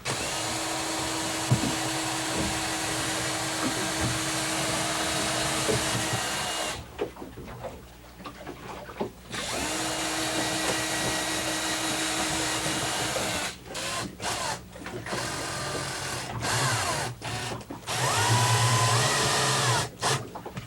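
A power drill pre-drills holes while installing a boat air conditioner, whirring steadily for long stretches, stopping and restarting several times, loud and close throughout.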